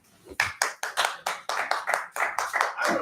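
Audience applause after a piano performance at a youth music competition live stream, a burst of clapping that starts suddenly and swells in uneven waves for a few seconds.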